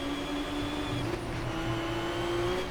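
A race car in Project CARS, StanceWorks track expansion, lapping the Scottish Highland road course slowly, with a steady engine drone holding one pitch throughout, no voices.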